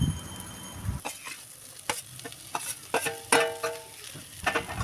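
Fried eggplant being stirred into a sukto curry in a hot pan, a soft sizzle broken by repeated scraping and clattering strokes of a spoon against the pan, up close.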